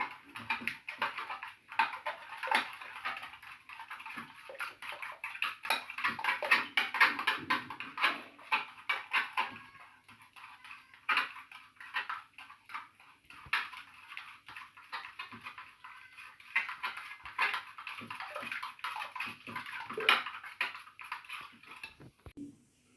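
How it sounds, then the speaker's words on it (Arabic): Rapid rhythmic tapping of a whisk against a bowl as eggs are beaten by hand for a chocolate fondant cake, continuous and close, with brief pauses. "دابا غادي نطربوا البيض على ما يبرد لينا الشكلاط"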